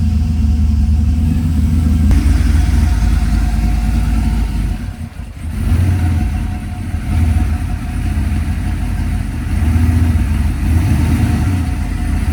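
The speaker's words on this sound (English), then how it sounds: "We're going to actually put it in gear and see if it rolls ahead and moves back" A street truck fitted with a 4L80 transmission rumbles at low speed under its own power, a deep, steady engine drone with a brief dip partway through before the idle-like throb returns.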